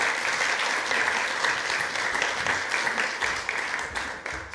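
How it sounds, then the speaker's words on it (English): Congregation applauding in a Salvation Army church service, a steady wash of many hands clapping, loud and sustained for several seconds with no clear speech over it. "I think a special round of applause for Sam and Caitlin"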